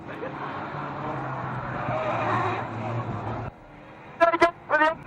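Race cars at Fleet Raceway in an old-boys meeting, a sustained engine roar that cuts off abruptly, followed by a few short sharp squeals or horn toots.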